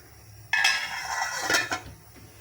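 A metal lid clatters onto a pot of boiling rice with a sharp clang, followed by a few softer rattles and clinks as it settles. The sound is near and clear, with no talking.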